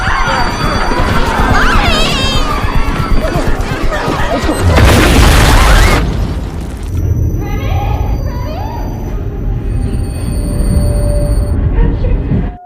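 A loud, roaring bomb blast aboard a train with crashing debris erupts midway through a noisy, dramatic action-film scene, followed by lingering rumble and scattered cries.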